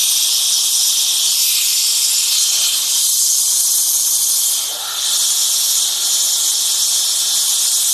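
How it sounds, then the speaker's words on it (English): Steady, close airbrush hiss sprays primer onto a miniature, continuous and fairly loud, with one brief dip in the spray partway through. "Every now and then you can just clean the airbrush"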